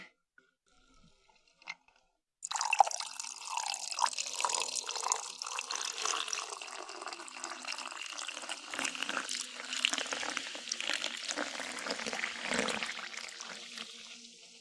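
Rum poured into a glass, a continuous close splashing, gurgling stream that starts abruptly after a near-silent moment and runs steadily for many seconds at moderate level.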